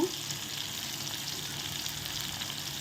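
Salted brinjal (eggplant) pieces fry in oil, giving a steady, close sizzle and crackle that stays even throughout with no talking.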